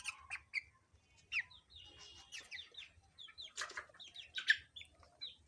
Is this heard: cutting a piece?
no